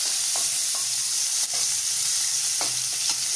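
Tomato pieces sizzle in hot oil with browned onions in a pan, a constant close hiss broken by a few sharp spatula scrapes and clicks as they are stirred.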